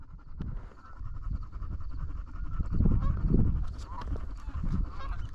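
Wild geese honking repeatedly during an early-season goose hunt in North Dakota, a loose chorus of calls swelling and fading in bursts, fairly close and filling the whole stretch.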